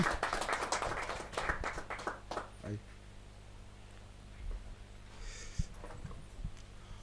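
A burst of group clapping at a Hindi poetry gathering fades out within a few seconds, leaving a quieter room with a few scattered sounds.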